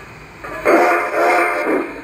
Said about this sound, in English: There's the whistle, the bell, and the chuff.